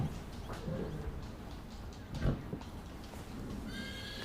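A horse neighs with a shaky whinny, hooves clop and shuffle nearby, and a bird coos faintly toward the end.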